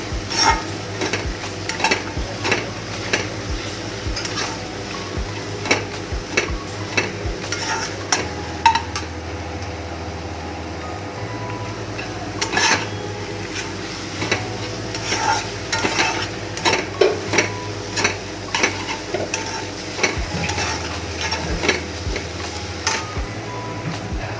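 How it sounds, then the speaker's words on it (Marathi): Mashed potatoes stirred in a pan for potato chutney, with a steady run of scraping, clinking spoon strokes against the metal, close and fairly loud with no talking. "तर या ठिकाणी मॅश करून झालेले बटाटे आई आता टाकत आहे"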